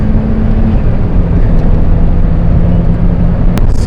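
A 1983 Lotus Esprit Turbo driven hard through a drifted corner, a steady loud engine drone with a sustained tone heard from inside the car, ending in a sharp brief noise.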